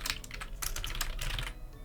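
Rapid typing on a computer keyboard clatters continuously, with dense overlapping keystrokes at close range and nothing else heard.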